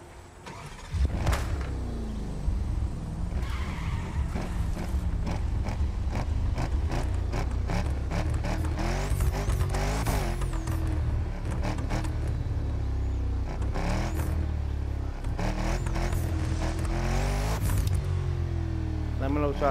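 A car drives in The Crew Motorfest with a steady engine drone and shifting revs, accompanied by frequent clicks and bumps; someone talks over it throughout.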